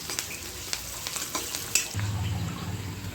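Curry leaves and turmeric fry in hot oil while being stirred, a close crackling sizzle with a few sharp spoon taps and scrapes, brief and fairly quiet, with no one speaking.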